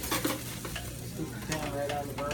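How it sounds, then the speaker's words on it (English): Shrimp searing in a smoking-hot pan on a burner for Riesling shrimp, with a steady close sizzle and stirring scrapes running throughout, no talking. "all we're really trying to do here is sear the shrimp on both sides."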